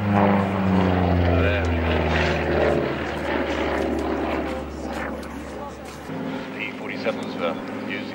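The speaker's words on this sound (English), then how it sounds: "The massive beast that is, the Avenger. It is huge, isn't it? It really doesn't look like it has flying speed at all" Grumman Avenger warplane passing at a D-Day air show at Duxford, a loud, droning piston-engine and propeller hum that holds strong, then fades and shifts lower as it moves away, with crowd and commentary voices underneath.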